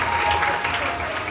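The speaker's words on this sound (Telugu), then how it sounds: "కొట్టుకోండి మీరు చప్పట్లు గట్టిగా." An audience claps loudly in a brief, continuous burst of dense applause.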